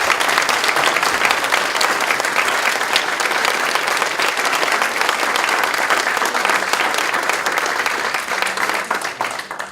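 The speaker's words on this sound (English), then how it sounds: "give another round of applause to our nominees" Loud, sustained applause from a large audience at an awards ceremony, dense clapping that continues steadily throughout with no pause.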